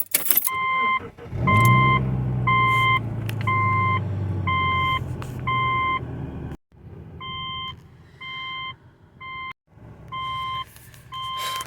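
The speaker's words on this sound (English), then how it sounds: "shut up with the beeping, for heaven's sake, dude. Freaking fine, I'll put my seatbelt on" A car's seatbelt warning chimes in steady repeated beeps, running in a long series, pausing briefly, then resuming, over a low engine rumble.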